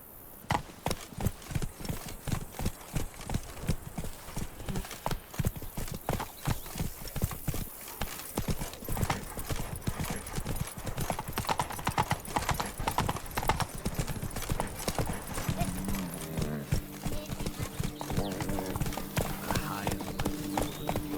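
Horse hooves clip-clop in The Witcher 3, a steady rhythmic trot of many close, even footfalls running the whole stretch, with game dialogue and ambient sound layered over the hoofbeats.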